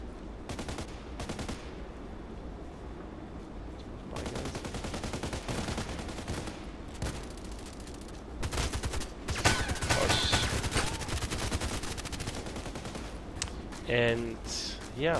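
RPK machine gun firing in the video game Contract Wars, repeated short and longer automatic bursts, close and loud, interleaved with quieter stretches and a player talking in places.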